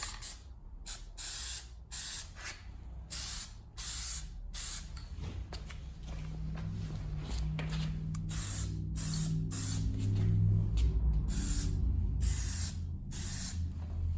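Plasti Dip coating sprayed from an aerosol can onto Honda Accord emblems: a dozen or so short, sharp hissing bursts, close and steady, with a low rumble of background noise building underneath.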